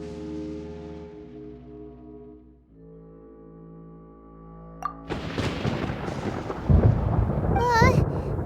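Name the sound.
thunder in the video game Genshin Impact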